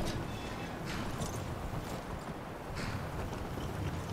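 Horse hooves clip-clop in a steady rhythm while riding in a video game, a soft, continuous patter under broadband noise with no talk.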